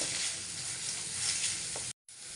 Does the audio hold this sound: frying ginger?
yes